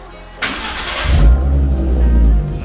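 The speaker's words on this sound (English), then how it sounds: "Hey, start up the car." A car engine cranks and catches after a sharp click, then idles loudly and close by with a deep rumble that holds steady for a couple of seconds.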